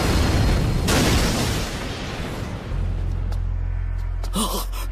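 A fireball attack bursts in a loud, broad roaring explosion that rumbles and fades over a couple of seconds, followed by a low steady hum and a brief vocal sound.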